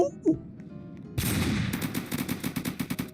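Rapid automatic gunfire from the Roblox game Military Tycoon erupts after a brief quiet moment, a loud, dense burst followed by steady repeated shots that continue to the end.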